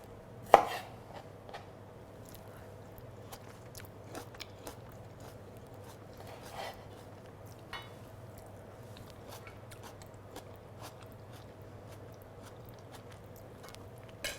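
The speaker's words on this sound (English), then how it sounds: "since we're going to chop the tomatoes up anyway" Tomatoes being cut on a board for a vegan spaghetti bolognese, a sharp knife thud at the start followed by sparse, faint cuts and soft wet squishes in a quiet room.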